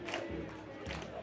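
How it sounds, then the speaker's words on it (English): Crowd roaring and shouting at a men's college soccer match in a tied game late in regulation, a dense swelling burst of voices rising and falling in two waves over a continuous stadium din. "Well, that sure has the crowd awakened, doesn't it, Nate?"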